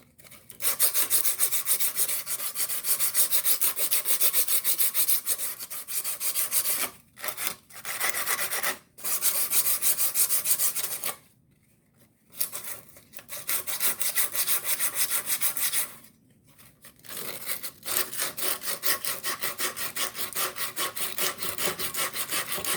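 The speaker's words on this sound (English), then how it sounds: "Just a little sandpaper." A mower blade shaft is rubbed clean with sandpaper in steady back-and-forth strokes, a close, continuous scraping rasp broken by a few short pauses.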